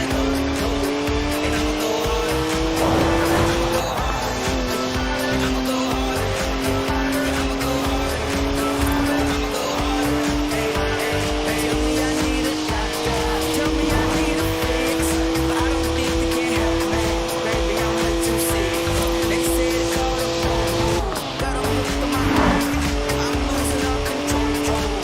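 Tires of a BMW scream under hard cornering while smoking in the Forza Horizon 4 racing game, with a loud, continuous engine and skid howl that rises and falls across the whole stretch.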